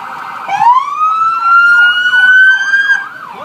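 A loud siren rises into a steady wail, then shifts into a fast warbling yelp, close and continuous, with no other sounds.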